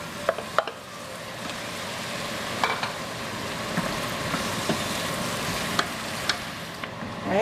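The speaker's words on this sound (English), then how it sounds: "In goes our mushrooms." Mushrooms sizzle in a frying pan for a Filipino burger steak, a steady bright crackling hiss with a few sharp ticks and spatters scattered throughout, close and continuous.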